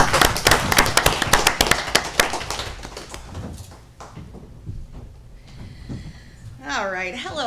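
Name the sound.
applause for teachers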